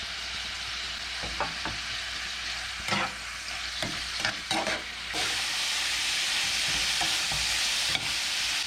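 Meat seasoned with cumin, ground paprika, caraway, salt and pepper sizzles steadily in pork lard in a frying pan, with occasional scraping stir strokes over a constant loud frying hiss.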